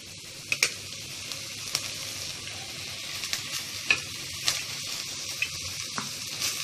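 Dwarf copperleaf greens fry with cooked toor dal, sizzling steadily in a pan while a spoon stirs in repeated scraping strokes, close and moderately loud with no talk.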